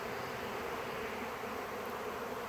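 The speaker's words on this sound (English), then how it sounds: "I'm in the middle of the swarm." A swarm of bees buzzing in the air all around, a dense, continuous hum of thousands of wings, steady and faint, with no voices.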